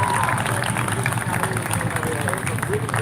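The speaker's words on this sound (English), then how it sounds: "Give yourselves a round of applause" Rally crowd applauding in a steady dense wash of clapping and cheering mixed with crowd babble, loud and continuous throughout.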